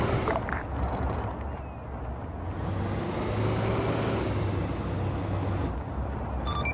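A Jeep engine drones steadily at a distance as it drives along a road during outdoor squad training, a low continuous hum that swells slightly midway and fades toward the end with no talking.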